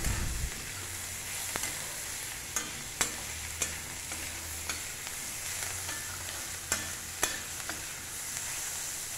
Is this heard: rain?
no